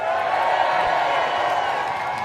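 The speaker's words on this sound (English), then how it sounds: "And we're getting the crowd going now." A crowd cheers and roars steadily at a Homeless World Cup football match in Cardiff, a dense, continuous wash of voices with no distinct breaks.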